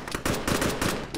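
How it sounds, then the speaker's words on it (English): Gunfire in the Arma video game, rapid bursts of shots in quick rhythmic succession, fairly close and sharp, with no talking over them. "We're getting shot at from the east past the bunker."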